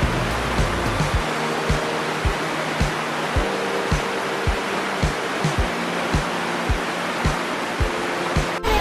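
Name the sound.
spring water flowing through cave swimming pools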